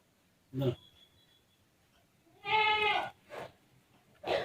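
Goats bleat several times, one long wavering bleat among shorter calls, fairly close with quiet gaps between.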